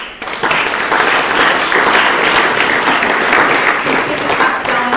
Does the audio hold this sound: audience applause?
yes